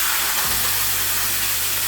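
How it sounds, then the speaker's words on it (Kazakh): Water poured onto rice frying in a pan, a loud, steady steaming hiss close up after a brief splash. "200-300 граммдай су құятын боламыз."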